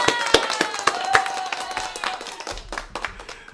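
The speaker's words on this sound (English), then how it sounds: "I got to give him a quick applause." A small audience gives a quick round of applause, sparse distinct hand claps at first that thin out into a few lighter claps, fairly close and without talk.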